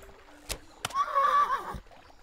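A horse in the video game Mortal Online 2 gives a single whinny lasting about a second, with brief knocks just before it and no talking.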